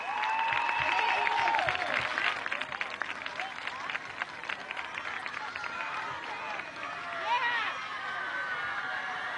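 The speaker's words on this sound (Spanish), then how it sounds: "Un aplauso de amor y reconocimiento." Applause with cheering and crowd noise at the swearing-in of a governor of Carabobo, sustained clapping under whistles and voices, steady throughout the nine seconds.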